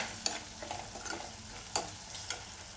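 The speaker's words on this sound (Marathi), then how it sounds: "आता हे सगळं व्यवस्थित मिक्स करून घेऊया" Red chilli masala gets stirred into a snake gourd dish in a hot pan, a soft sizzle with a few sharp scraping clicks of the spoon against the pan, close and alone.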